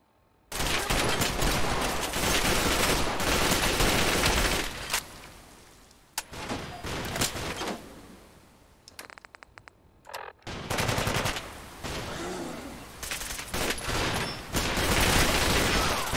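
In Fallout 4, gunners fire guns at close range. Loud bursts of rapid automatic fire come in long volleys, with a brief lull and scattered single shots midway before heavy firing resumes.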